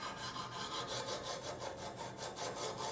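Knife edge worked on a stone in a Kazak UBR sharpener, a close, rhythmic scraping of repeated strokes, about four per second, with no talk over it.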